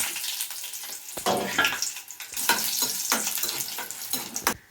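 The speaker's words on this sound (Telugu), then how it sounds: "ఎండుమిరపకాయలు అయితే వేసుకుంటున్నా ముందుగా" Dried red chillies frying in a pan, a bright crackling sizzle that swells and drops in bursts as they are stirred, close and fairly loud with no talking.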